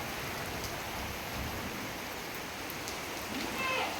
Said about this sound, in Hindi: बारिश हो रही, देखो